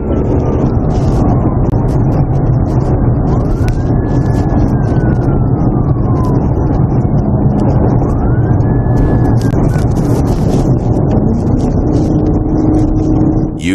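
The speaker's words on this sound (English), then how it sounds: "Also be advised, I've got my siren back." A police car siren wails in slow rising and falling sweeps over loud, constant road and engine roar during a high-speed pursuit, with the sweeps fairly faint under the noise.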